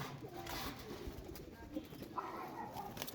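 Domestic pigeons kept at home coo softly in a few low, throaty calls, quiet and close, with faint room noise and a hint of a voice in the background.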